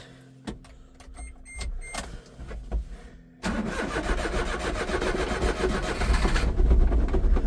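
A cold diesel dump truck engine, a 5-speed with high and low range and diff lock, cranks over and catches at about three and a half seconds, then settles into a loud, rough idle.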